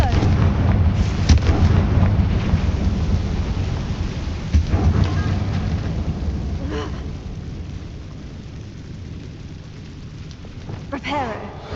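Hogwarts Legacy's Confringo fire spell bursts with a heavy, booming rumble like thunder or artillery, loud and close, then fades into a softer crackling tail.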